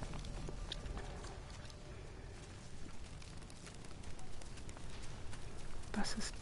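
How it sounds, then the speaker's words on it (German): Horses in the video game Paper Beast, played in VR, a faint scattering of soft hoof-like clopping and rustle under game ambience, growing slightly louder toward the end. "Und da kommen die Pferdchen."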